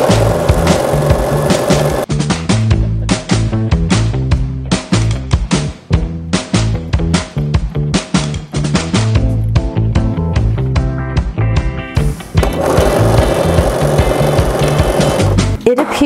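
A sewing machine stitches around a swim trunks waistband about half an inch in, its rapid mechanical whirring running in repeated bursts with short stops between runs, loud and close throughout.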